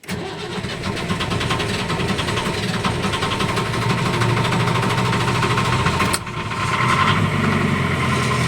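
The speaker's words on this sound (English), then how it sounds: "engine start on the Hampton Safari from" A 1975 Hampton Safari MK11 boat engine cranks and catches, then settles into a steady, loud idle with a brief dip partway through; no one speaks.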